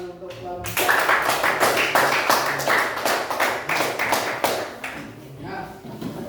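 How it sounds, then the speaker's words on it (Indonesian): Classroom applause for a student group during a Hindu religious education lesson, a burst of dense clapping from many hands lasting several seconds and tapering off, after a short bit of speech at the start. "Tepuk tangan untuk kelompok."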